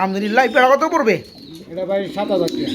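Pigeons kept by a Bangladeshi breeder coo in soft, rolling bursts close by, with someone talking in Bengali over and between the calls.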